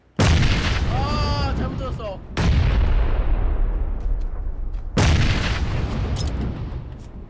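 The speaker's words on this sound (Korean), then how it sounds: "수류탄 얹었어" Three heavy grenade explosions in PUBG, each a loud, sudden boom followed by a long rumbling decay, spaced a couple of seconds apart, with a voice faintly audible early on.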